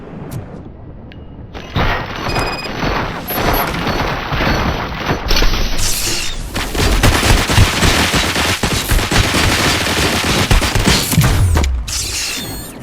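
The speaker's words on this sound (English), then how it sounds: "Fire at will." Sustained loud gunfire and booming impacts in the Robocop: Rogue City video game, a dense, continuous barrage of shots with mechanical clatter running for several seconds.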